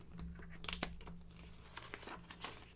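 Cellophane crinkled and pinched by hand while it is shaped into a decorative flower bag topper, with close, quiet, irregular crackles and rustles.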